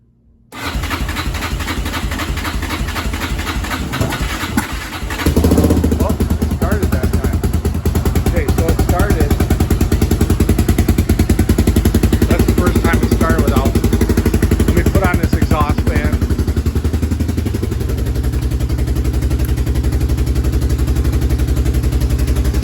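A 2005 Yamaha Raptor 660R ATV that will not rev up runs steadily after being choked, a loud continuous engine drone with a sharp rise in level partway through, and a voice talks over it briefly.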